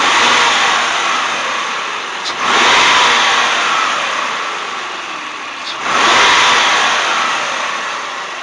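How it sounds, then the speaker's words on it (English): Car engine being revved by snapping the throttle during EGR fault (P0401) troubleshooting, two sharp loud rev bursts rising over a steady idle, close up and without talk. "when I snap the throttle"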